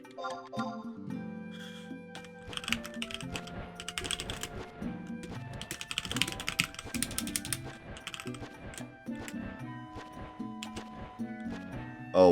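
Computer keyboard typing while playing Final Fantasy XI, irregular clusters of crisp key clicks mixed with tonal game sounds, fairly close and with no speech.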